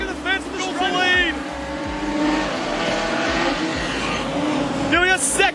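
Speedway race cars roar around a dirt track, with a Ford Falcon out in front, as engines rise and pass close by with brief tire squeals under an excited commentator's voice.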